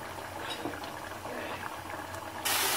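Tamarind water poured into a brinjal and drumstick curry in a pressure cooker, a steady liquid gush and hiss that ends in a louder, brighter surge of splashing, with no talking.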